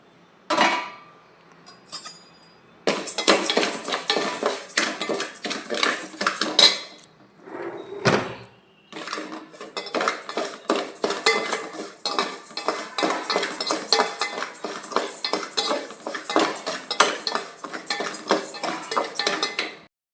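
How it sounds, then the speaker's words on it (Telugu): Rice and cardamom pods dry-roasting in a pan, with a spoon scraping and stirring continuously for most of the stretch: steady, close metallic scrapes and rattles, loud and busy, with a short pause near the middle. "బియ్యము యాలకపళ్ళు వేపాను కదండి"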